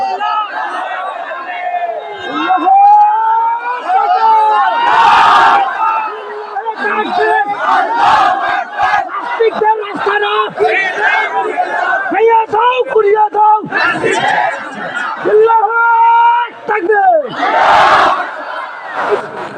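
A large gathering of young men at a Bangla Islamic sermon shouts the takbir in loud unison, with repeated roaring waves of chanting that answer a lead voice.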